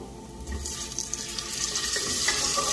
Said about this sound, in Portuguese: nosso alho já tá refogado